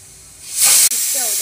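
A sudden loud hiss as mung beans hit a hot pan, swelling to a bright spitting burst, dipping for an instant, then settling into a steady frying sizzle.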